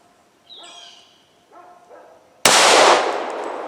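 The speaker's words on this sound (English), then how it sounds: "It's a fun gun to shoot, guys." A Sig Emperor Scorpion pistol fires a single loud, sharp shot at close range, with a ringing decay afterward; faint whining, bark-like sounds come before it.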